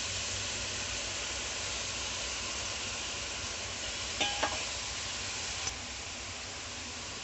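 Onions, amaranth leaves and tomatoes fry in a pan for an Andhra-style greens curry, giving a steady close sizzle throughout, with a couple of brief scraping clinks from stirring near the end.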